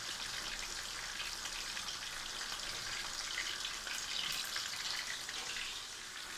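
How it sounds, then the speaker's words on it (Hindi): Fish fries in a pan, giving a soft, steady sizzle and hiss that stays fairly faint and even throughout, with no speech over it. "अब इसको हमने 3 मिनट इस तरफ और 3 मिनट फिर पलट कर फ्राई कर लेना है"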